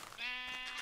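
A lone white sheep in a farm video game gives one short, close bleat with a wavering, nasal tone.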